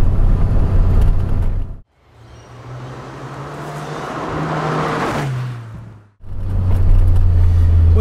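A Lotus Elise R drives on the road, its engine a steady close drone heard from inside the car. The drone drops away twice in short breaks, then picks up again at a different pitch.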